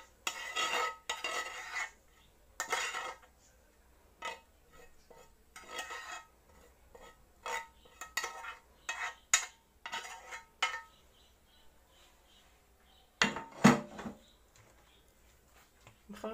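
A utensil scrapes and clinks against a bowl while fried onion is mixed into a potato mixture, in irregular close strokes separated by short pauses.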